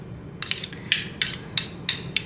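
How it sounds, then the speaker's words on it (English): Butter being worked into bake batter in a bowl for Guyanese soft bakes, a series of sharp utensil clinks and knocks against the bowl at an uneven rhythm, close and fairly quiet. "I'm going to basically just work the butter into the batter"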